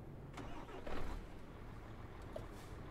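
Truck engine idling at low revs, around 500 rpm, in the driving game Euro Truck Simulator 2, a steady low rumble with a brief swell partway through, heard alone.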